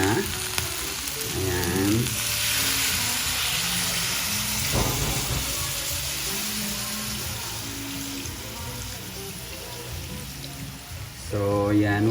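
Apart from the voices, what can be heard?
native chicken sizzling in pan as coconut milk is added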